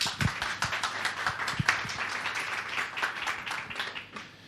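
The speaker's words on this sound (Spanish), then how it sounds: "Un aplauso, por favor." An audience claps for a speaker being introduced at a talk on people in digital transformation, a short burst of individual claps that are close and distinct rather than a full roar, fading out toward the end.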